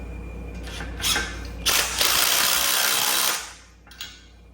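A power tool runs in short bursts and then one longer steady whir while tightening nuts on a budget Amazon lift kit for an electric golf cart, with a brief blip at the end.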